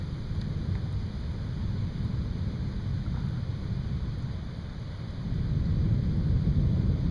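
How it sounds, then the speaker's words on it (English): Thunder rumbles through a storm cell passing over a Mississippi town during a tornado with violent wind and rain: a steady, deep roll that swells louder near the end, with no voices. "Thunder is just rumbling everywhere."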